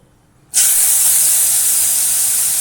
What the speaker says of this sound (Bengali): তেল গরম হয়ে গেছে এবার উচ্ছেগুলো ছেড়ে দেবো